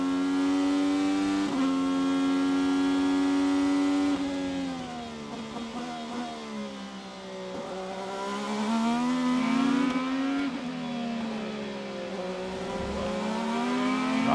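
IndyCar race cars during the 2018 IndyCar Grand Prix, a loud sustained high-pitched engine whine rising and falling through gear shifts and corners, continuous and close.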